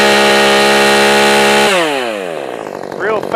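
A ported Husqvarna 450 Rancher chainsaw screams at a loud, steady high rev close by, then drops off as the throttle is released into a falling, burbling idle, with a voice speaking briefly near the end.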